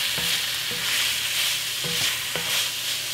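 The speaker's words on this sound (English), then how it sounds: "Give that a stir. Put a little bloom on those spices." Curry powder and thyme blooming in a pot for one-pot chicken jollof rice, a steady bright sizzle with a few spoon scrapes and knocks as the spices are stirred, no talk.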